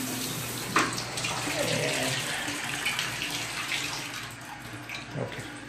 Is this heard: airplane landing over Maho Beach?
no